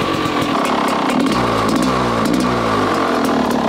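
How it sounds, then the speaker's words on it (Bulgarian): An enduro motorcycle fitted with a headlight runs close by, its loud, raspy engine droning steadily while the pitch climbs and dips through a few revs, with no voices over it. "То е ендуро, не е кросов мотор."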